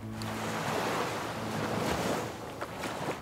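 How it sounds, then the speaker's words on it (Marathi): Sea waves crash steadily against the rocky ramparts of Sindhudurg sea fort, a continuous broadband surf roar with wind noise on the microphone and no voices. "लाटा तटबंदीच्या खडकांवर अविरत धडकत होत्या."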